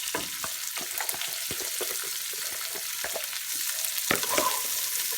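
Ivy gourd (tindora) hits a tempering of hot oil with a pinch of soda, giving a steady close sizzle broken by scattered sharp crackles and spatters, with a louder burst of pops near the end.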